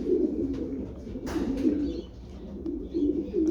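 Homing pigeons coo outside their loft in a steady, overlapping murmur of low soft calls, with a few brief rustles and a louder burst in the middle, fairly close and continuous throughout.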